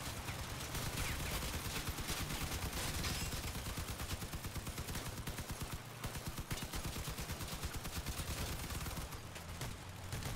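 Relentless gunfire during a Crossout vehicle battle, dense overlapping machine-gun bursts and heavy shots pounding continuously at close range, with only a momentary dip midway.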